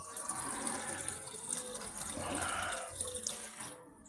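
Running water pours into a container that is still under half full, a quiet, close, continuous splashing trickle that cuts off near the end.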